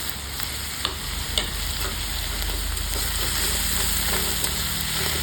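Ingredients with curry leaves sizzle and fry steadily in a pan while a spatula stirs them, with occasional sharp scrapes and clinks against the metal over constant frying hiss.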